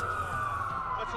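Wailing police sirens in Watch Dogs, a steady tone holding under low rumble as cops pass through a blacked-out area, with a voice talking over it.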